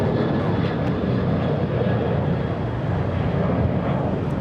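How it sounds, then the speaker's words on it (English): A United Airlines Boeing 737 takes off at LAX, a broad continuous jet engine roar holding steady and loud for several seconds amid outdoor airport ambience. "Let's go take a look at the next takeoff. We have a 737 United Airlines."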